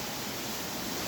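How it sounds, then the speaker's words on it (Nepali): A jungle waterfall gives a steady, loud rushing roar of falling water that fills the whole moment without a break or any voices. "ल झरना भएको ठाउँमा आइपुग्यौँ हामीहरू"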